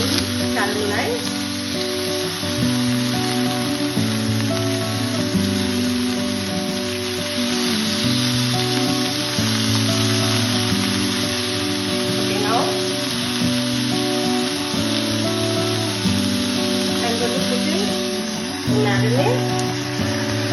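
Chicken pieces frying and caramelizing in a hot pan for a Coca-Cola chicken dish, giving a steady close sizzle throughout with faint background hum and occasional light clinks.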